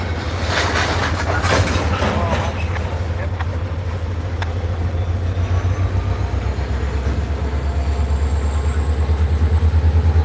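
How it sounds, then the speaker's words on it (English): CSX freight train with its locomotive passing below a cliff, a loud low rumble and steady rhythmic clatter of wheels over rail joints, heard from above and continuing throughout with occasional talk. "Hear all that exciting, invigorating locomotive noise."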